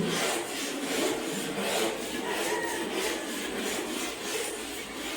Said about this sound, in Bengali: এই যে দেখেন কীভাবে ঘষতে হয় পাথর দিয়ে।